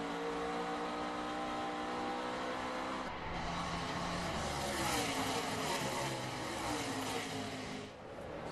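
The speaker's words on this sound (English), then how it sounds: "all those cars zipping down the backstretch" NASCAR race cars in the 2012 Zippo 200 at Watkins Glen roar down the backstretch, a dense, sustained wall of high-revving engines that swells and shifts pitch as the pack streams past, loud and continuous.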